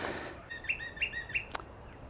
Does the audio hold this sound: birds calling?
yes